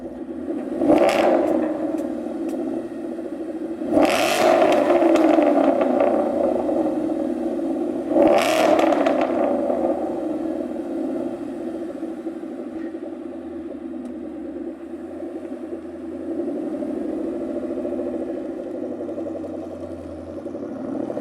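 A car engine blipped through a new raspy, snarly aftermarket exhaust, three sharp revs rising and falling over a deep steady idle rumble, loud and close, with no talking.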